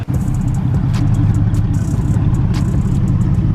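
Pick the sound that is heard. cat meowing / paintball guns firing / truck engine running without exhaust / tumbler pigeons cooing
truck engine running without exhaust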